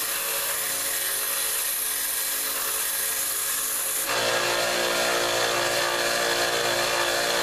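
Continuous abrasive sanding on a wooden hatchet handle being fitted to a forged spike hatchet head, a steady loud whirring rasp that grows slightly harsher midway, with no voices.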